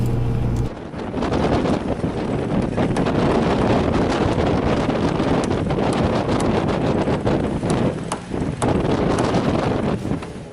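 Strong wind buffets a sailboat near Martinique, roaring loudly and continuously against the microphone with gusty surges and no voices.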